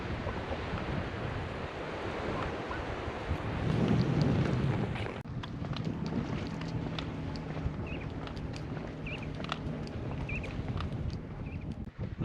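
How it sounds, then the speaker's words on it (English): Waves wash and break around the end of the pier at Fowlers Bay, a steady surf hiss with gusts of wind buffeting the microphone and a louder swell surging midway; no one speaks. "here we are at the end of the pier at Fowlers Bay"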